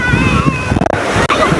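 A brief wash of a sea wave sloshes in underneath excited talking, short and close.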